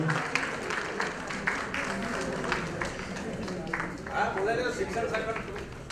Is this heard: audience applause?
yes